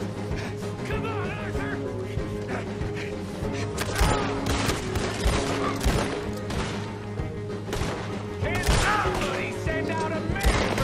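Dense gunfire from a Red Dead Redemption 2 shootout during a jailbreak, with repeated overlapping shots and booms over a continuous game soundscape and occasional voices.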